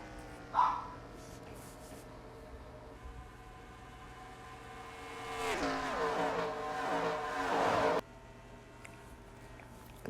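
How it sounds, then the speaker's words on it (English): Race cars sweep past at top speed on the Michigan oval in a simulated cup-series race, a rising roar that swells and cuts off sharply, with an earlier brief engine note and little talk. "Those top 4 cars flying by at top speed."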